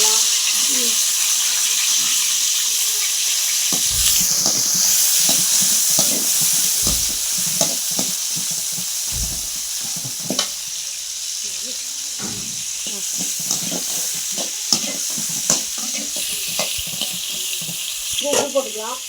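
Onions sizzle and fry in a pan for Amma-style chicken kuzhambu, a chicken curry, with a steady high hiss, frequent scraping stirs and clattering knocks throughout, and voices talking at times.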